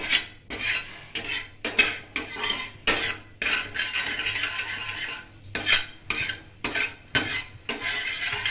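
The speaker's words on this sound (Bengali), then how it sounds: "ক্যারামেলটা বানাতে গেলে চিনিটাকে একটু জল দিতে হবে, জল দিয়ে গোলাতে হবে।" A spoon stirs sugar and water in a pan for caramel, with repeated scraping and clinking strokes in an irregular rhythm, fairly close and alone.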